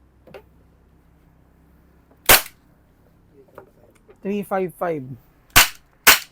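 A GHK G17 airsoft gas blowback pistol fires a few sharp, loud cracking shots spaced apart, with a short stretch of talk between them.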